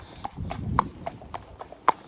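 Horse hooves clip-clop in a steady, even walking rhythm while the horse is ridden out on a hack, about eight clear close strikes on a hard surface.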